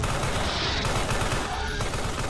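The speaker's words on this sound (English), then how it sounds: "They're shooting me and I'm innocent." Rapid, dense video-game gunfire from enemies shooting at the player in the horror game Carrion, a loud continuous barrage of overlapping shots with no pauses.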